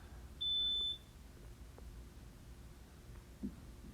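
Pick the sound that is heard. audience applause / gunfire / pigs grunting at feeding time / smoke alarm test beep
smoke alarm test beep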